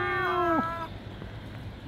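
A wet cat out in the rain at Nazareth House in Southend-on-Sea gives one clear, drawn-out meow that falls in pitch, followed by quiet, hissy ambience.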